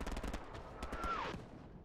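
Rapid bursts of gunfire in the World War II shooter game Hell Let Loose, a fast stuttering string of shots at moderate distance, fading into a trailing ringing tone.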